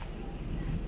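Gusty outdoor wind buffets the microphone in a loud, low rumbling rush for a moment, with no other sound standing out.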